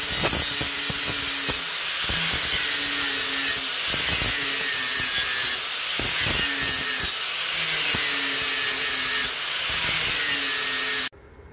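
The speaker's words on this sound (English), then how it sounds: "I got my sanding wheel on here, and I'm going to go over everything and just kind of fine finish everything out" A sanding wheel grinds over welded joints on a wide metal TV tray, giving a loud, steady abrasive whine with repeated short scraping passes and brief pauses, then cutting off at the end.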